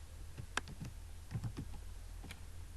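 Soft clicking of a computer keyboard while a SQL WHERE condition is typed, a few quick scattered keystrokes with short pauses, quiet and close with no voices.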